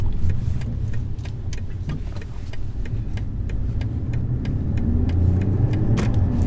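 A 2020 BMW M340i on a test drive gives off a steady, moderate cabin hum of engine and road noise, with faint regular ticks sounding over the top.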